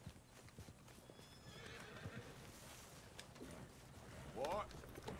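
Horse hooves clip-clop steadily at moderate volume in Red Dead Redemption 2, with a short whinny near the end, all under faint background talk.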